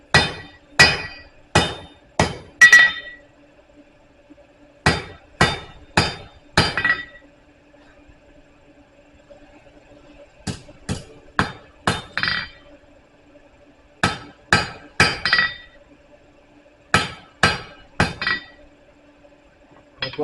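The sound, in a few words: blacksmith hammering hot metal to draw a taper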